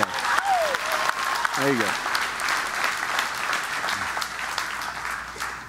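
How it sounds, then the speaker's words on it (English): A church congregation bursts into sustained applause during a Sunday service, the clapping full and steady. A voice speaks briefly over it near the start. "Let's clap for Jesus one time"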